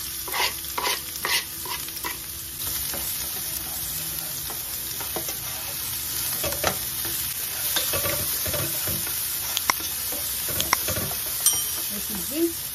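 Onions and garlic being stir-fried together in a pan for a quail dish, with a steady sizzle under repeated scraping and clinking stirs of the utensil against the pan, close and fairly loud.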